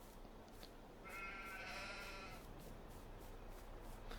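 A sheep bleats in Farming Simulator 22 on a farm holding about eighty sheep, a single wavering bleat heard faintly over a steady low ambient background.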